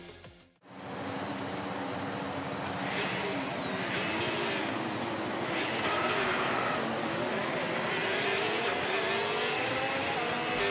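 F1 video game cars roll off together on the formation lap before a sprint race. A dense, steady, loud engine roar builds up and holds, with a few rising whines sweeping through.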